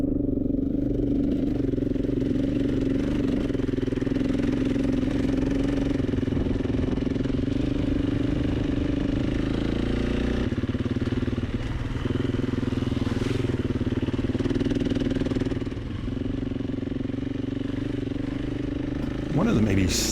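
An enduro motorcycle rides offroad in Mongolia, its engine a loud, steady drone with rattling clatter that holds for the whole stretch and eases only briefly near the end.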